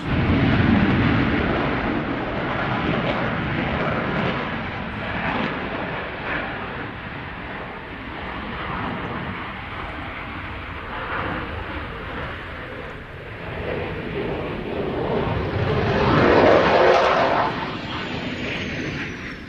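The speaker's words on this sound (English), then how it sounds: "as if by magic for you, the Belgium F-16" A Belgian Air Force F-16 fighter jet flying at an airshow makes a broad, continuous jet roar that swells and fades, peaking loudly near the end, with no voices over it.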